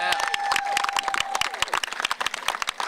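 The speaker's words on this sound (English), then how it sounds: "Give them a round of applause." A crowd applauds and cheers for a Blue Bikes bike-share sponsor at an outdoor launch event in New Orleans. Dense, steady clapping fills the moment, with a brief sustained tone sounding early on.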